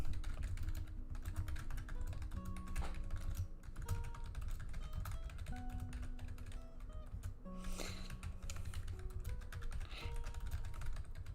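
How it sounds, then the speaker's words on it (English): Rapid, loud clattering of a computer keyboard being typed on continuously, keys striking in quick irregular bursts with no talking. "Sorry about that really loud typing."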